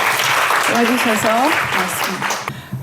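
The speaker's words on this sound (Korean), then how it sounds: "그래도 박수 한번 다시 치고" Audience at a Korean book talk clapping, a loud continuous wash of applause with someone speaking briefly over it before it cuts off.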